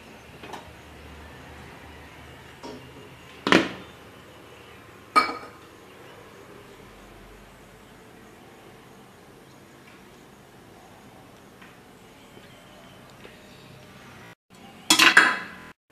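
A metal idli steamer pot clanks and clinks as it is opened and handled to check the steamed idli, giving a few sharp knocks spread through a quiet kitchen.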